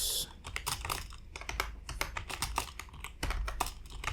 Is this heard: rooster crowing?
no